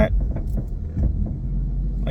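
Knocks and thumps from the suspension of a 2016 Ford Mustang GT while it is being driven. Low rumbling road noise carries irregular clunks, and a voice speaks over it at times.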